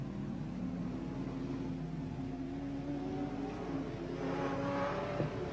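Super sedan race cars thunder down the main straight of a circuit, a steady engine drone heard from a distance with a pitch that slowly climbs as the pack approaches.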